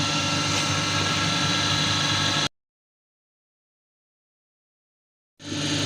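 A three-phase AC electric motor runs on a speed-control lab bench with a steady, loud, broadband whirring hum. It stops completely for about three seconds, then starts up again.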